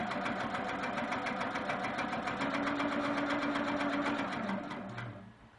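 A sewing machine stitches quilt borders, its needle driving in a fast, steady mechanical chatter for about five seconds before slowing and winding down at the end.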